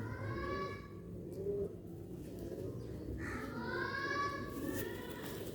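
Soft grey pigeon cooing repeats in low, throaty phrases over a steady background hum, with a few higher bird calls mixed in nearby; rooftop loft pigeons.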